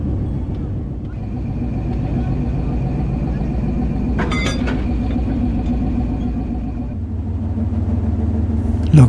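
Fareed Express train rolling along, a continuous loud low rumble of wheels on track with a brief metallic clatter midway and a sharp knock at the end.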